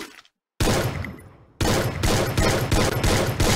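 Rapid bursts of gunfire from a gun in the video game Free Fire, loud and close, coming in two dense volleys separated by a short silent gap, with no talk over them.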